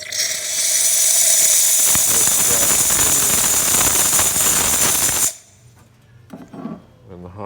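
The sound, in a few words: espresso machine steam wand test, Pasquini Livia 90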